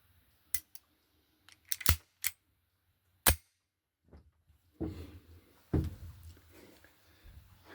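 An Italian police-issue double-action/single-action pistol fires a string of sharp, loud shots at an outdoor range, spaced irregularly, followed by fainter knocks and handling clatter.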